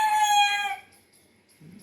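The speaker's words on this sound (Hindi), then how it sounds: "ये सिर्फ फार्मी मुर्गे लिए थे" A farm-raised broiler rooster lets out one loud, drawn-out crowing call, then things go quiet except for a soft low rustle near the end.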